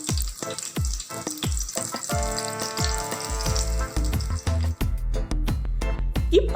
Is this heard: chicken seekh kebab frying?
yes